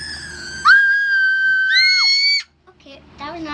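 A person imitates a terror scream ringtone with a long, sustained, piercing shriek that rises at the end and then breaks off, followed by brief voiced sounds.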